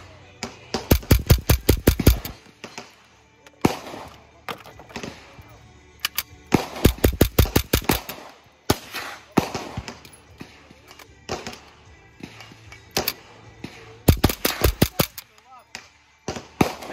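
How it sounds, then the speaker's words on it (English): Bursts of rapid semi-automatic gunfire from a Ruger 10/22 rifle at an outdoor shooting session, sharp cracks fired in quick strings with pauses between volleys, with people talking between shots. "Go ahead and start shooting."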